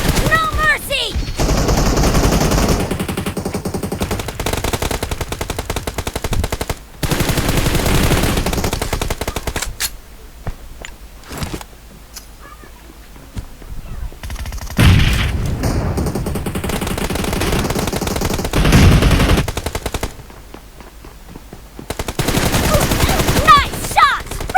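Rapid automatic gunfire in a team deathmatch video game, long bursts of loud shots broken by brief pauses and quieter stretches, with occasional booms and game sounds in between.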